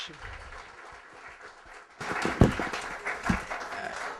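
Audience applause for a chamber of commerce chair at a business town meeting, a burst of clapping rising suddenly after quieter murmuring, with a couple of louder claps standing out near the middle and voices mixed in underneath.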